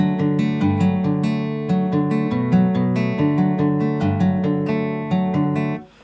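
An acoustic guitar plays a flowing, fingerpicked intro melody, ringing notes that fade out at the end.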